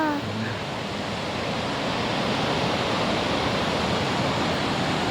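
Kajulu waterfall roars in a steady, loud broadband rush that holds constant throughout, with a voice briefly audible at the very start.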